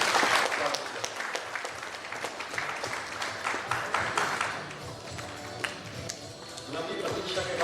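Audience applause at an award ceremony during a convention in Bihar, a dense, steady spread of clapping that fades a little in the middle and then swells again.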